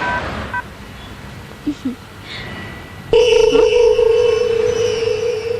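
Telephone tones sound during a phone call being placed: a quiet stretch with a few faint blips, then a loud, sustained electronic tone takes over for the second half.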